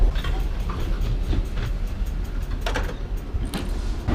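A train rumbles steadily along the tracks near San Clemente Pier with a low, continuous roar and occasional clanking clicks, heard from inside the carriage.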